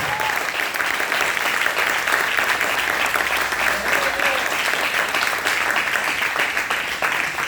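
A church congregation applauds in dense, sustained clapping that stays loud and even for several seconds, with no talking over it.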